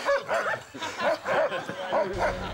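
Real dogs on the film set of the 2006 horror film The Breed give a run of yips and barks in several close bursts over about two seconds, with some background voice activity.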